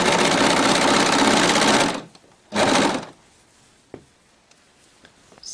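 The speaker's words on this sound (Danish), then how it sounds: "Hvis man bruger en symaskine, så er det vigtigt, at det er en meget elastisk søm." A sewing machine stitches leggings with an elastic seam, a loud steady run of rapid stitching for two seconds, then a brief second burst, followed by quiet handling clicks.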